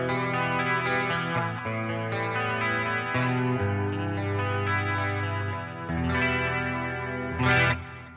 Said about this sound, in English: So here we go with some dirty tones here.